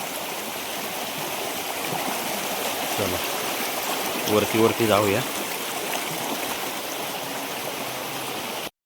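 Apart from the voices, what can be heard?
stream water flowing where crabs are sought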